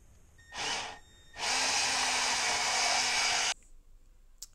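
A Milwaukee bandsaw cuts through metal desk-frame tubing with a loud, steady roar lasting about two seconds, preceded by a brief burst as the saw spins up, then stopping abruptly into quiet.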